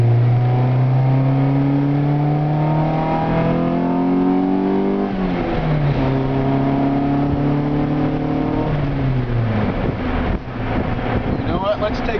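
A 1993 Honda Civic SI VTEC hatchback (EG, naturally aspirated D16Z6) accelerates through several gears, its engine note climbing and dropping at each shift, loud and close from inside the car.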